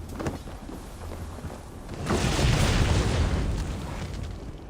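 An enemy bomb thrower's explosions in Assassin's Creed Valhalla: a low rumbling blast swells up midway and lingers as a heavy roar over continuous background battle noise, with no talking.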